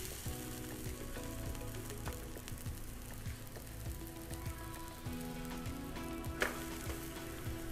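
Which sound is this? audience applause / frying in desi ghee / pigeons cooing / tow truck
frying in desi ghee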